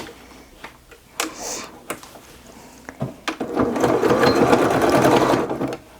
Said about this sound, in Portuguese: E agora a gente vem e passa uma costura aqui.